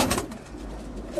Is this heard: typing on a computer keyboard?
no